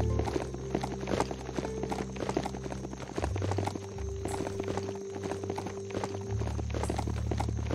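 A rider's mount in Biomutant trots along with a steady, close clip-clop of hooves over continuous game ambience and music, with no talking.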